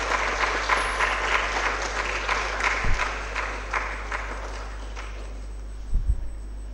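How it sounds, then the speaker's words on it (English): An audience at a medical college orientation day claps in a steady, fairly close round, sustained for several seconds before thinning out, with a couple of low thumps along the way. "Let's all welcome ma'am with a round of applause."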